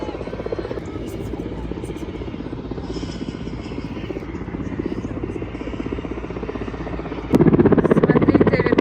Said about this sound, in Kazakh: Қараңдар, мына жақта вертолет.